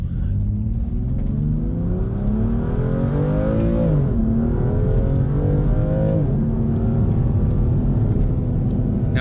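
A BMW M2 Competition accelerates hard with manually selected gear shifts, engine pitch climbing steeply, dropping briefly at each upshift near four and six seconds, then climbing again as a loud in-cabin roar.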